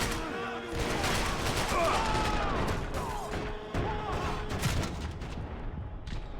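Dense, sustained gunfire from the video game Max Payne 3, a loud continuous fusillade of shots and impacts filling most of the stretch, with game voices faintly mixed beneath the din.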